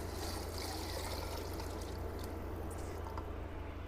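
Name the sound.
pouring water into pot for broccoli soup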